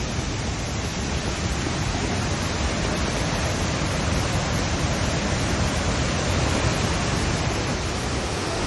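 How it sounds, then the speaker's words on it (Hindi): Shifen Waterfall in Taiwan roars as a steady, loud, dense wash of falling water, unbroken and constant from start to finish with no voices. "और हम आ चुके हैं ताइवान के सबसे बड़े वाटरफॉल में, जिसका नाम है सीहून वाटरफॉल"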